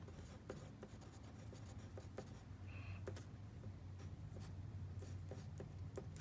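Numbers written by hand during a maths lesson, faint scratchy pen strokes in quick bursts over a low background hum, close and quiet, with no speech.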